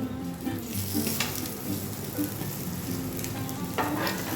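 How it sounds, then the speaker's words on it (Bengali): Small mourala fish fry in hot oil, a steady close crackling sizzle with occasional stirring clicks and scrapes from a utensil in the pan. "ভেজে নেবো আর একটু ভাজি"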